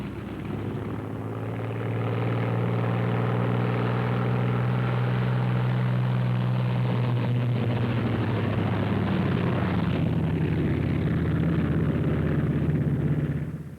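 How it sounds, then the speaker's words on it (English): A pair of Thunderbolt aircraft taxiing out, their engines producing a loud, steady droning roar with a deep low hum that holds throughout and swells slightly after the opening seconds, with no voices. "Second pair taxis out."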